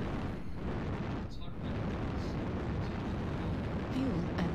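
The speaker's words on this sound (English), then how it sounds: "Artillery strike activated." Rumbling artillery-strike explosions from a video game roll on continuously with heavy low booms and a dense, sustained roar.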